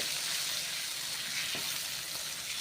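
Masvadi curry ingredients with cumin sauté in a hot pan, giving a soft, continuous sizzle throughout with a couple of faint stirring scrapes.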